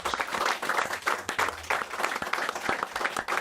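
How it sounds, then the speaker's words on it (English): Audience applause for Nigel at a community football show linked to Ipswich Town fans, a steady burst of many hands clapping close by, dense and continuous for a few seconds. "give him a big round of applause."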